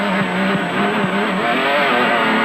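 A Ford Ranger rally truck's engine revs hard and steadily, loud and close, with a rising, sustained roar and shifting pitch during a stage of the Hluhluwe 400 rally.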